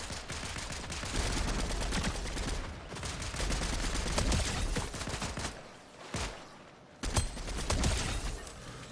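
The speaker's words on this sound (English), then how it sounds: "So now we have to headshot opponents with the MK assault rifle." MK assault rifle gunfire in Fortnite, with bursts of rapid shots and other battle noise running loud and nearly continuous, easing briefly before a sharp burst resumes.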